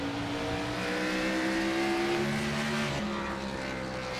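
Race car exhaust at a Five Flags racing event, a loud, close engine roar holding a steady high drone, then dropping in pitch as the car shifts or lifts near the end.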